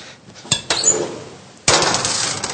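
A metal baking sheet carrying an asparagus Gruyère tart is slid back into an oven, giving two quick clanks followed by a louder scraping clatter and a hollow rattling tail.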